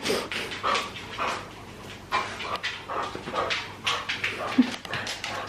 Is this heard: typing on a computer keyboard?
no